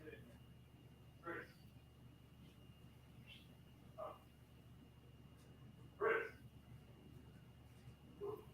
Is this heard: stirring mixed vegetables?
no